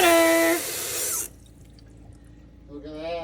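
Water running from a travel trailer faucet just after the pump is primed, a loud rushing spray for about a second that cuts off, then quiet before a voice speaks.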